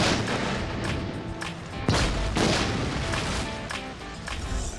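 A launcher fires during an outdoor spike strip test, a loud booming shot with a sharp crack followed by rumbling, amid steady wind-like noise and further thumping bursts.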